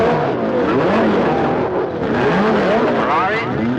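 Race cars roll onto the starting grid with loud, rising and falling engine roars and passing whines overlapping throughout.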